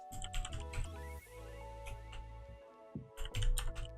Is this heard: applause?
no